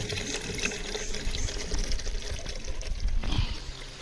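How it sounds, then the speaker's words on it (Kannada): Water splashing and trickling as a tank is filled, a continuous close pour with a louder gush near the end. "ನೀರು ತುಂಬ್ಕೊಳಕತ್ತೆ ನೋಡ್ರಿ"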